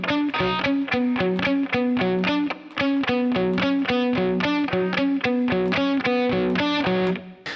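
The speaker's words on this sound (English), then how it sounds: "The guitar part's gonna kick in halfway through the first verse" A distorted electric guitar plays the driving part from the song, fast repeated picked notes in a tight, steady rhythm, loud and close with no voices.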